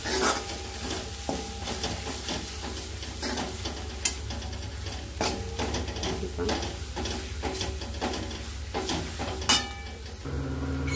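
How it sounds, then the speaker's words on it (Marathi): Ground black peas are stirred into masala in a pan, producing a steady scraping and sizzling with repeated spoon strokes and a clink near the end. "तेही आपण इथे मसाल्याबरोबर मिक्स करून घ्यायचे"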